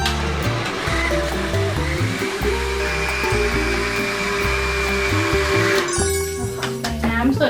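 A blender running steadily as it purees a mango ice cream mixture, a loud, continuous motor whir with grinding churn that rises in pitch near the end, with a voice speaking over it.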